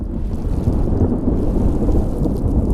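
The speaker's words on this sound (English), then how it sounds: "I like the nice sound of the thunder." Thunder in a PS1 horror video game, a loud, deep and continuous rumbling roll with a rain-like hiss over it.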